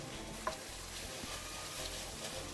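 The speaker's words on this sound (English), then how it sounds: "cook this down until the wine completely evaporates" White wine simmering and reducing in a shrimp risotto pan, with a faint, steady bubbling sizzle and one soft utensil tap near the start, quiet and with no voices.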